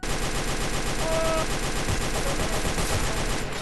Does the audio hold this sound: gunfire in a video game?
yes